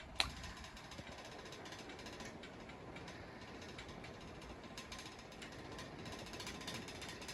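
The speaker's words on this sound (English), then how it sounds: "the rattling you hear in this video is from the light kit" A 52-inch Murray Feiss C52 ceiling fan runs with a loose light kit, giving a faint continuous mechanical rattle and whir with no talk.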